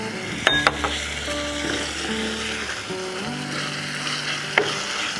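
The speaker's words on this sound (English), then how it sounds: "Now I'm going to add chopped tomato." Chopped tomato tumbles into a pan of frying roasted eggplant curry, giving a steady close sizzle with a few sharp stirring clinks and scrapes. Faint tonal hum runs underneath.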